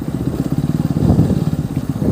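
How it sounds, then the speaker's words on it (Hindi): Motorcycle with a modified exhaust giving heavy bass, idling close by in a loud, steady, rapid lumpy thump that swells slightly midway, with no talking. "बाइक का एग्जॉस्ट भी सुना लेता हूँ आप लोग को।"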